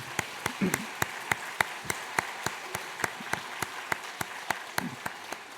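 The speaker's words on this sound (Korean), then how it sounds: "우리 박수로 한번 환영하고 축복하겠습니다." A Sunday church congregation claps to welcome a visiting pastor, producing quiet, sparse applause led by a few distinct, evenly paced claps close by, with faint murmuring beneath.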